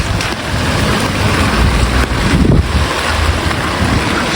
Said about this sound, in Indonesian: Sebelah ini hujannya lebat banget guys.